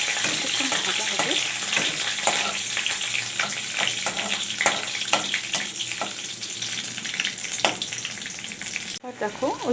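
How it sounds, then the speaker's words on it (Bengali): Ash gourd peel paste with turmeric and salt frying in oil, a dense close sizzle broken by frequent scraping stir strokes, briefly cut off near the end. "ওই তেলটার মধ্যে পেস্টটা দিয়েছি, তার সাথে একটু হলুদ আর নুন দিয়েছি। এবার পুরো পেস্টটাকে নিয়ে ভালোভাবে ভাজতে হবে"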